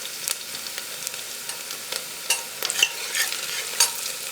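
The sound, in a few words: onions and chopped ginger frying and being stirred in pan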